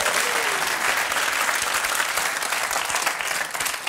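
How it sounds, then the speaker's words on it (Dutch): Dense, steady applause from a live comedy audience fills the whole stretch at an even level, fading slightly near the end, with no speech over it. "Applaus voor Michel en Hilde."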